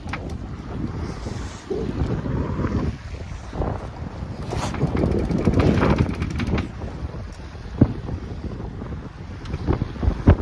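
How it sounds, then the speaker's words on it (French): A sailboat heads upwind as its sails are trimmed in, with gusty wind buffeting the microphone, water washing against the hull and occasional knocks of rigging, loud and uneven, with no speech. "donc du coup je reborde les voiles"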